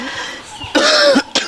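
A man's harsh cough bursts out in two loud fits, a long rasping one followed by a short second hack, with quiet room tone before and between.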